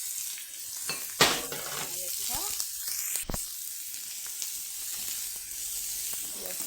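Onion fries in a preheated pan with a little oil for a fish dish, hissing steadily up close while a utensil scrapes and taps now and then, with one sharp clatter early on.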